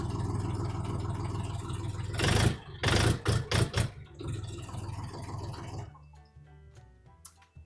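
Dongfeng 244 DHX Chinese mini tractor diesel engine running steadily at idle close by, with a few sharp revs in the middle before settling back to a lower idle.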